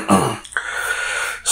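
A person gives a brief raspy throat clear, a short close rough burst followed by a faint breathy tail and a small catch at the end.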